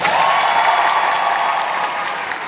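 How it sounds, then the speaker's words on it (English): Convention panel audience applauding steadily throughout, a dense, loud wash of clapping from a large crowd with faint cheering mixed in. "Applause for with glasses."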